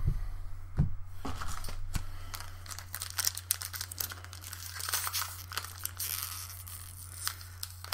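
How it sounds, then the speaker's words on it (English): Force of Will Moonlit Savior booster packs torn open, with crinkling foil wrappers, sharp rips and shuffling of cards, close and fairly quiet with no talk. "these are unusually difficult to open."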